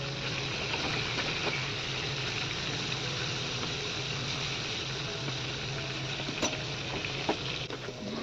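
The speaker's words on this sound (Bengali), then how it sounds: "আর ওই সবজিটা তো ভেজে নিচ্ছি যেটা আমি খাবো" Vegetables fry in a pan in a home kitchen with a steady, close sizzle and faint crackles, a constant hiss broken by occasional small clicks.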